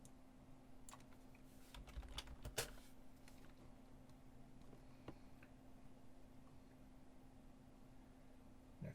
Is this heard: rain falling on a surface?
no